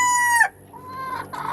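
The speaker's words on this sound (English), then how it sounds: "that guy up there, I think that's a rooster. So that's a black copper Moran" A black copper Marans rooster crowing nearby, one loud drawn-out crow that breaks off, followed by softer trailing calls.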